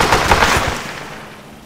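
Enemy gunfire in the military video game Arma, a rapid burst of several close, loud shots in quick succession that fades into a decaying echo, with no talking.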